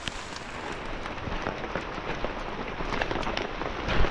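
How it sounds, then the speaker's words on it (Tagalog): Steady rain falls on a wet morning, a soft continuous hiss of drops spread evenly throughout, growing slightly louder near the end, with no voices. "Maulang umaga."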